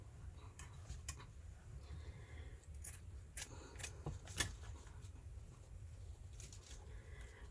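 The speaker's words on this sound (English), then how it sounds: "I'm going to take a strip off this side." Scissors cut a strip off a handmade journal cover, making a run of crisp, faint snips and clicks close by over a low background hum, with no talking.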